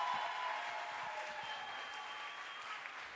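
Audience applause for a poet at a youth poetry slam final on the Millennium Stage, a steady, even wash of clapping from a crowd that stays fairly quiet and distant for the whole stretch.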